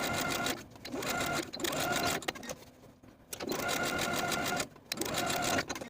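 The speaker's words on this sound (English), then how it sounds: "I'm going to top stitch along the folded edge from top to bottom on both" A sewing machine top-stitches along the folded edge of a crop top seam, running in steady whirring bursts with brief pauses between runs, close and clear.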